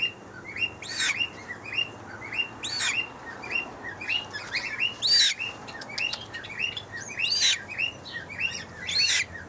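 A five-week-old pukeko (Australasian swamphen) chick gives repeated high peeping calls in a steady, uneven rhythm, close by, with faint background chirps and no talking.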